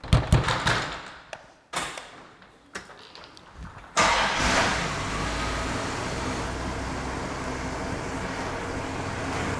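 A Dodge Ramcharger truck engine starts up after a few short knocks and clunks, then settles into a steady, loud idle rumble that holds for the rest of the clip with no voices.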